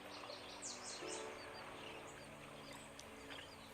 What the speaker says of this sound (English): The chirping of the birds and the sound of the waves echo on forever.